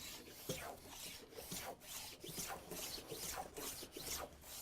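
A wooden chopstick blank is cut to a taper by hand in a jig. The cutting makes close, quiet scraping and rasping strokes in a steady repeated rhythm, with no voices.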